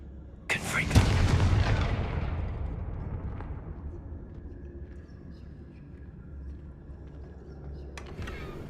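A Confringo blast spell bursts in Hogwarts Legacy, a sharp loud explosive crack followed by a long fiery rumbling decay, with a fainter second impact near the end.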